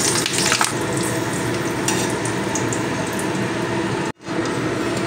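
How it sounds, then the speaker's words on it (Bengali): Curry leaves frying in hot oil: a loud, dense, continuous sizzle and crackle with a few stirring clinks, cutting out abruptly near the end before resuming, no talk. "এই কারি পাতা আমি তেলের মধ্যে ভেজে নেব"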